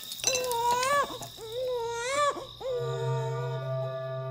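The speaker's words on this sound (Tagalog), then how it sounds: "nang makarinig ng isang sanggol na umiiyak" A baby cries in a Tagalog audio story: three rising, wavering wails with short breaks between them, then a long steady held cry, close and loud.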